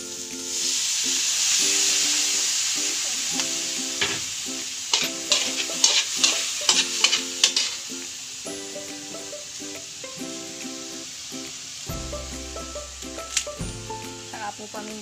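Soy sauce hits a hot pan while a dish is being stir-fried, giving a loud steady sizzle with repeated scraping and stirring strokes of a utensil, a voice speaking briefly.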